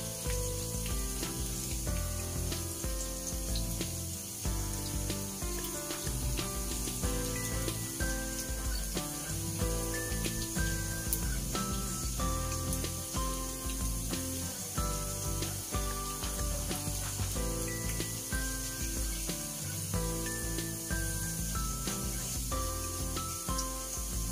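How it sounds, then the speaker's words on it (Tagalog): Garlic browning in a frying pan, giving a steady, dense sizzle and crackle that continues evenly throughout, close and moderately loud, with no talking. "i-brown lang po natin yung ating bawang"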